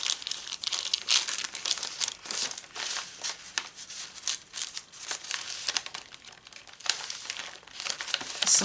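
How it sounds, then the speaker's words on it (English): Thin glassine paper envelope handled close up in a quiet room, giving a steady run of light crinkling and rustling with brief sharper crackles throughout. "it's just a glassine envelope."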